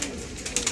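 A fancy pigeon coos softly in a brief, close burst of low throaty notes.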